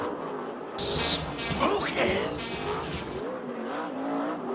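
A USAC/CRA sprint car races past on the Perris track, its engine surging loud and near in a quick whoosh before fading, while an announcer talks under and after the pass.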